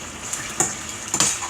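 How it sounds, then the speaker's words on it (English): Asparagus fries in butter in a pan over medium-high heat, giving a steady close sizzle broken by a couple of brief clinks and scrapes of stirring. "And now I'm gonna be frying my asparagus."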